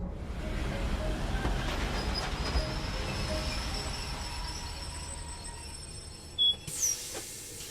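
A train passes in the Love and Deepspace video game: a continuous rolling rumble with squealing wheel tones, steady and fairly close, ending with a few brief higher clicks and chimes.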